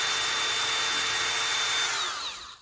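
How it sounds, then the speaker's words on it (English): A battery drill bores through a sail batten, a steady high whine sustained close up, then tapering off as the bit slows at the end. "is a hand drill or a battery drill"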